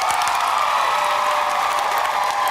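An audience of Harry Potter fans in Australia applauds and cheers, a steady dense wash of clapping with scattered whoops holding level and loud throughout, with no talking over it.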